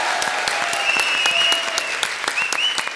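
An audience claps for Bharti on a comedy show stage, the applause rolling steadily and moderately loud while a voice sings over it.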